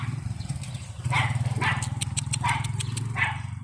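Whitey, a spiked-collar guard dog, barks several times in a loose series of sharp barks, close by, over a steady low engine hum.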